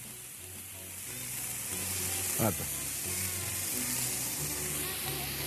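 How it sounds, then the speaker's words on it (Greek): Food sizzles and fries loudly in a hot pan over a strong flame, a steady crackling hiss that runs throughout while someone talks briefly over it. "όταν ρίχνετε οτιδήποτε στο τηγάνι, ακόμα και στο σκαροτήγανο, να καίει καλά και να ελέγχετε τη φωτιά για να μην βράζουν, για να ψήνονται"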